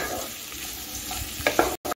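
Mixed vegetables, later joined by baby corn, are stir-fried in a pan over high gas heat for a soup. A close, steady sizzle is punctuated by a few scraping stirring strokes before it cuts off abruptly.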